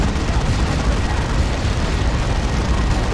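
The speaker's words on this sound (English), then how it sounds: "There's that Frag Assault" Frag Assault explosion in Dawn of War 2, a 3v3 match, a dense continuous low-heavy rumble of blasts and battle noise throughout, with a caster talking over it.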